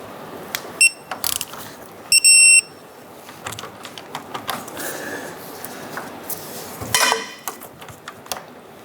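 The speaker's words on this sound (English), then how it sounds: "Now we're going to torque down both bolts to 55 foot-pounds." Metallic ratcheting and clicking of a torque wrench tightening the front upper control arm bolts on a 1997-2006 Jeep Wrangler, with a few short bursts and light tool clatter, close and fairly loud, no talk.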